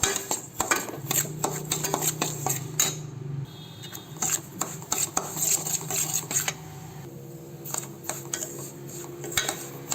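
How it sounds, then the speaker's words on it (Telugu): Rava being roasted in oil in a pan on low heat, a metal spoon scraping and knocking against the pan in irregular bursts over a faint sizzle, close up with no talk. "నూనె పోసి మనం వేయించుకుంటే అది గడ్డగా లేకుండా ఉంటుందన్నమాట"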